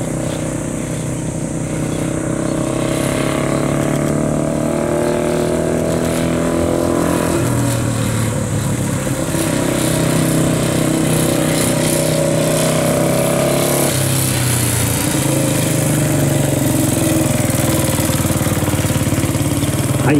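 A 1952 Honda Dream E-type, an early four-stroke motorcycle with a 146cc 5.5 hp engine, runs steadily nearby with a low, throbbing exhaust note whose pitch shifts a little with throttle changes, alone and loud.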